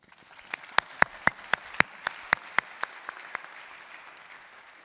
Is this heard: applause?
yes